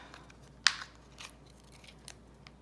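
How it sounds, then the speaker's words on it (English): Small piece of washi tape torn off a roll at a craft table, one crisp snap-tear followed by a few faint rustles and light taps in a quiet room. "I'm going to rip off a little piece"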